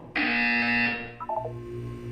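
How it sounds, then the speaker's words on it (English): A loud electronic buzzer from the Portal 2 game blares for about a second, then a few shorter chirping tones follow while a low hum lingers underneath. "When you hear the buzzer, look down at the floor."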